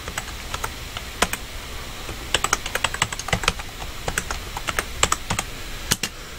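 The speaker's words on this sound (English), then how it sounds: "excuse my typing." Typing on a computer keyboard while coding Minecraft command blocks: a steady run of sharp, close key clicks with irregular bursts and short pauses, alone with no voices.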